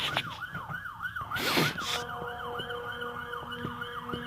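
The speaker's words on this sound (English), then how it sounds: "This sounds like a fire truck." A fire truck siren passes close by in a wailing, rising-and-falling pattern, with a brief loud whoosh of the vehicle going past partway through, then the siren continuing steadily as it moves on.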